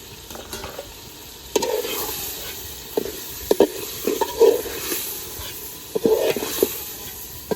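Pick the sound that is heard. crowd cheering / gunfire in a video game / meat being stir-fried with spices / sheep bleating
meat being stir-fried with spices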